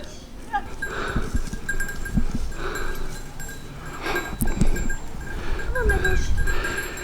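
Goats bleat intermittently in a garden while being walked on a lead, several short calls near and far over rustling movement and steady outdoor background noise, with people talking throughout.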